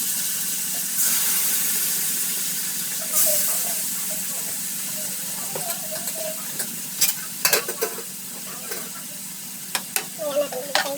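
Chicken pieces frying in a pan with a steady bright sizzle and hiss, scattered clinks and scrapes of stirring growing more frequent later, faint talk in the background.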